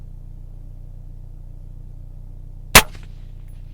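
A single sharp gunshot from an MK 18 Mod 1 carbine cracks out once over a low, steady background hum, then fades quickly.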